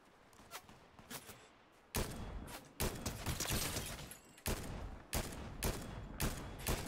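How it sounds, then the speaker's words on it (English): Fortnite gunfire erupts in sharp, loud volleys after a quieter opening, with repeated bursts of shots pounding in close succession. "Fuck, I'm getting shot at."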